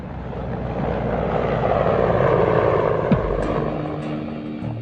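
A Mi-24 Hind twin-turbine attack helicopter flies past with a steady, dense rotor and turbine roar that holds at moderate loudness throughout.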